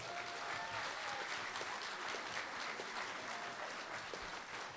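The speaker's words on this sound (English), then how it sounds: "We give them one more round of applause" An audience applauds a middle school band at the end of its spring concert, steady dense clapping filling the whole stretch with scattered cheers and whistles rising over it.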